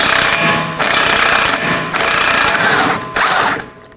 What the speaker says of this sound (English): I'll be using a 32mm socket and an impact wrench